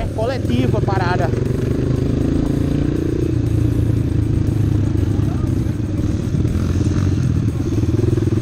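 A Honda CRF 230 off-road motorcycle rides a dirt training track, its engine droning loud and steady close by with revving swells and clattering, while a voice talks over it.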